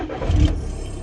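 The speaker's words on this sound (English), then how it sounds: "I'm gonna go ahead and start this up for you guys." Diesel wagon with a deleted exhaust and a turbo cranks and fires up close by, a brief starter whir rising into a rough mid-pitched engine rumble that settles quickly.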